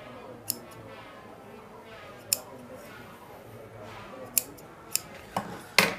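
Scissors snip panjabi fabric at the body part in a few sparse, crisp clicks spread over several seconds, close and fairly quiet against a low background hiss, the last cuts sharper.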